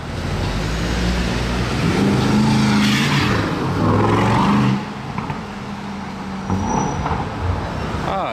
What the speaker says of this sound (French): Ah, il était dynamique ce DBX 707.